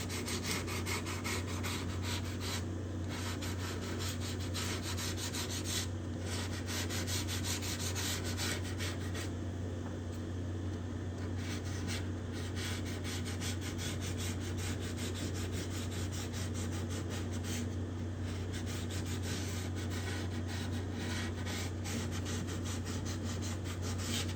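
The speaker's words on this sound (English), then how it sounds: "You can see I'm not sanding aggressively." Continuous light hand sanding of wooden guitar bindings on a spruce-top guitar, a steady scratchy back-and-forth texture, close up, with a constant low electrical hum underneath.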